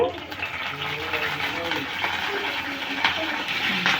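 Curry leaves frying in hot oil for a prawn fry give a steady, close crackling hiss that runs the whole time, with a voice talking over the sizzle.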